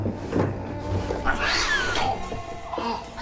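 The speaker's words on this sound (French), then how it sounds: "Et ils entendent le chat. Encore ce chat noir." A black cat cries out in a short, strained yowl with rising and falling pitch, close and fairly loud over a dim, murky background in a dark storybook setting of the Efteling park attraction Danse Macabre.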